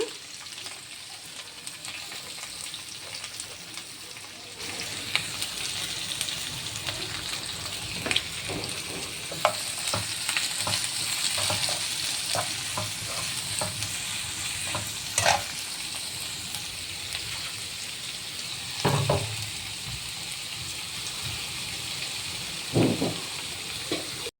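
Finely chopped onions, along with curry leaves, sauté in a pan for a masala egg dish, giving a steady rain-like sizzle throughout with scattered stirring scrapes and a few louder spoon knocks, close and continuous, with no talk.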